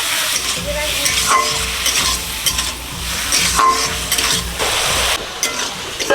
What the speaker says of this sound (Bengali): চিংড়ি মাছ এদিকে কষা হচ্ছে